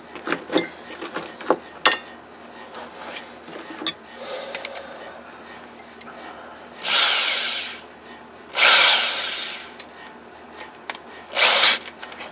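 A power drill fitted with a bigger bit works on a custom chopper motorcycle in a workshop, with several separate bursts of whirring mixed with clanks and handling noises.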